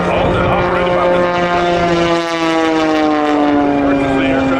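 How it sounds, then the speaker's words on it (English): A propeller aerobatic airplane engine warming up at an airshow drones steadily at close range, its pitch sliding slightly as it revs, with a voice talking faintly over it. "kind of warming up his airplane in preparation for his full routine"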